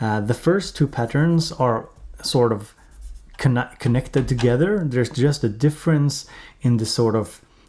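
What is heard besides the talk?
No distinct noise like a dog, phone or traffic.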